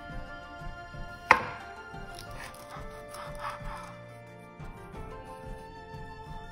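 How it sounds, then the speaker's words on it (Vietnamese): A knife cutting cucumber on a board while sushi rolls are being prepared, with one sharp knock followed by soft, scraping cuts, fairly quiet against a low kitchen hum. "dưa leo mình cắt như vậy, đừng có cho nó quá to mà cũng quá nhỏ"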